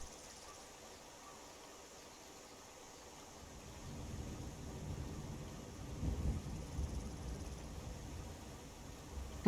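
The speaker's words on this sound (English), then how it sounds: "thunder in the distance" Distant thunder rolls through the Skyrim game world, a low rumble swelling after a few seconds and peaking near the end over steady ambient wind or rain hiss.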